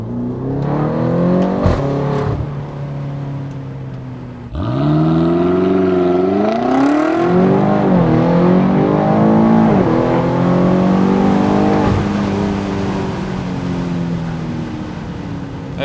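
A BMW X5M F85 SUV accelerating hard, its engine note loud and close as it climbs through rising revs, dips briefly at a shift, then pulls strongly again before settling.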